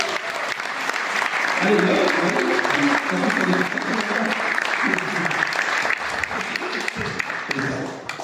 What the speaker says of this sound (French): Je vous demande d'applaudir Jérémy Guitard.